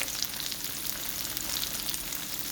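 Ground lamb rice balls fry steadily in a pan, giving a continuous dense sizzle with crackling pops throughout, close and even in level with no talking.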